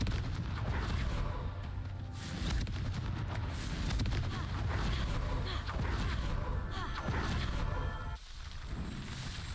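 Confringo spell blasts in Hogwarts Legacy, a run of booming, whooshing fiery impacts and crackling bursts that keep going loudly before cutting off near the end, with some speech beneath.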